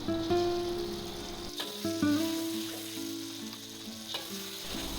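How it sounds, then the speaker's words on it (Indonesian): Ground spice paste and shallots sauté in oil for a crispy Indonesian side dish, a steady close sizzle with ladle taps and scrapes against the pan and no voices. "Tumis-tumis bumbu dan juga bawang merahnya hingga tercampur merata"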